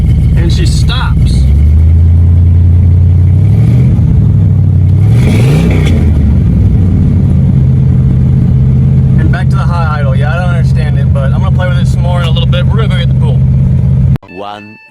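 A 1984 Chevrolet Corvette engine idling and revving as the car drives slowly around a barn, a loud, steady low rumble that swells with throttle, with a voice speaking over it near the end.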